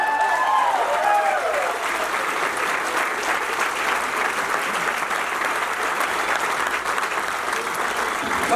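Audience applause fills a Chicano alumni banquet hall, a steady dense clapping from a large crowd that runs loud and unbroken from start to finish.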